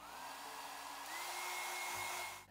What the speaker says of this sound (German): Diesen Bereich föhne ich jetzt noch einmal trocken.